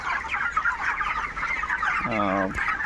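A flock of 24-day-old farm chickens cluck and chatter in a dense continuous murmur, with one louder call near the end rising above the crowd.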